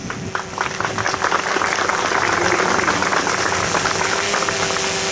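An audience applauds at a Lila Cosmetics celebration in Diyarbakır, a dense, continuous roar of many hands clapping that builds in the first second and holds steady and loud to the end.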